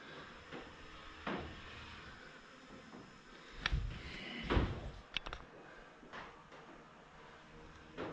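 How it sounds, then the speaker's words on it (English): A back door of a summer cottage is pulled shut, giving several soft knocks and clunks spread across a quiet room, with a louder thud near the middle. "I'll shut the back door because there's flies coming in"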